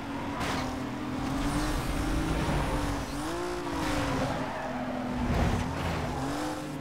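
Rotary-engine car racing in Need for Speed: Most Wanted (2005), a steady droning engine note rising and dipping with gear changes, tire squeal breaking in at intervals, loud and continuous without talk.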